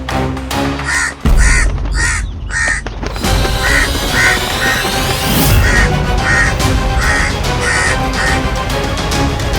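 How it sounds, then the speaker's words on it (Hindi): A crow caws over and over, loud and harsh in a steady repeating rhythm, set against a busy, dense background wash. "कौवा"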